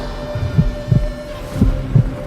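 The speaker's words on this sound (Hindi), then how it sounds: "तो अपने भीतर मेरी धड़कन सुन।" Heartbeat in a Hindi horror audio drama, slow deep double thumps repeating about every second, loud and close over a low steady hum.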